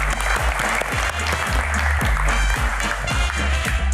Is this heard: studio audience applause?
yes